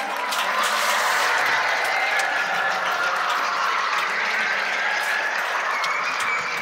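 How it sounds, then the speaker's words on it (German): A conference crowd applauds founder Ivo Sasek in a dense, steady wash of clapping that holds evenly at close range for several seconds, with no voices rising above it. "Also geben wir mal einen schallenden Applaus für den ACK-Gründer Ivo Sasek."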